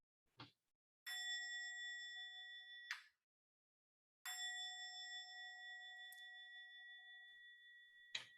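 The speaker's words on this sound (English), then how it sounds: "I can do the bell." A meditation bell rings during a Zen chanting session: a short tap, then two loud struck tones that each ring out with a long, sustained shimmer, heard alone in a quiet room.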